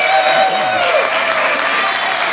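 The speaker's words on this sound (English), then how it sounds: "Y'all come on, clap it up, clap it up" Crowd applause at a Kwanzaa celebration at Malcolm X College, a dense, steady wash of clapping filling the space, with a voice calling out briefly over it near the start.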